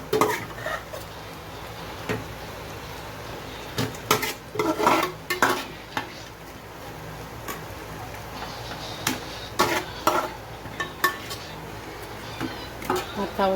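Vegetables tipped into a cooking pan and stirred, with repeated scraping and clanking of a utensil against the metal in irregular bursts over a low sizzle, close and fairly loud, without talk.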